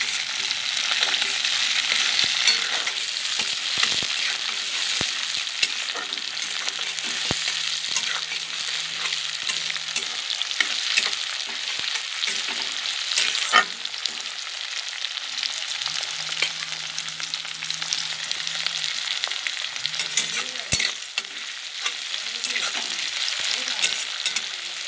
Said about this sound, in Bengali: এবার এর মধ্যে কুচিয়ে রাখা টমেটোগুলো দিয়ে দেবো। নাড়িয়ে দেবো ভালো করে।